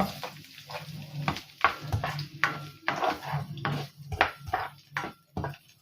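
Garlic added to hot oil in a pan and stirred while cooking tambakol in coconut milk, with repeated metallic scrapes and clinks of a utensil against the pan over a faint sizzle, close and irregular.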